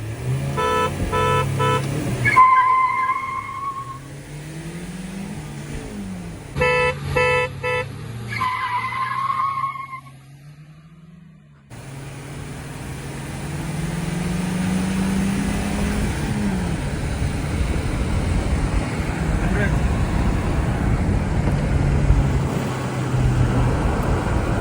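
A Honda City i-VTEC and a Hyundai Verna 1.6 CRDI launch side by side in a drag race: sharp tyre squeals and chirps in the opening seconds, a brief lull, then a long, loud, steady roar of engines and rushing wind, with no voices.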